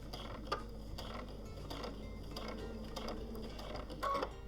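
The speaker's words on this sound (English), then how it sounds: "I will do 7 small stitches" A sewing machine runs at a small stitch length while sewing an applique for a quilt-as-you-go tiger, giving a quiet, steady mechanical ticking and clicking of repeated stitches.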